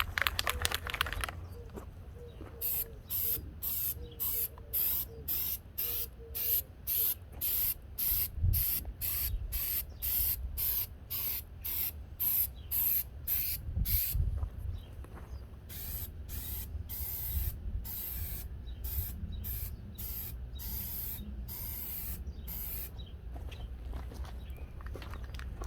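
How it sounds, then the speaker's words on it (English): A spray can applies bedliner paint in rapid short bursts, a long run of hissy sprays with brief gaps, close and fairly loud, with a few handling knocks and rattles between them. "don't just continuously spray with these spray cans"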